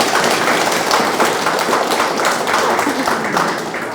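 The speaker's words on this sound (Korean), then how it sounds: "왜 박수 같은 걸 안 치세요?" Audience at a local election campaign talk event in Yeonje district, Busan, clapping in a dense, steady wash of applause that holds at a constant level for the whole stretch, with some voices mixed in.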